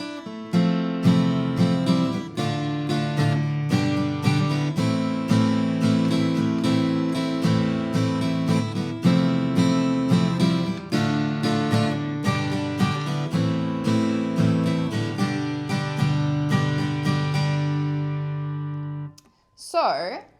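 An acoustic guitar plays a song's intro riff, strumming mandolin-like chords in a steady, driving rhythm up close for about eighteen seconds before it cuts off, followed by a short ringing tail and a brief squeak.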